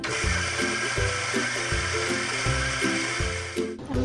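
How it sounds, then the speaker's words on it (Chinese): A coffee grinder whirs loudly and steadily as it grinds coffee beans into powder, with a low pulsing churn under the motor's buzz, then cuts out abruptly just before the end. "我们买的呢是咖啡豆，所以还要再磨成粉。"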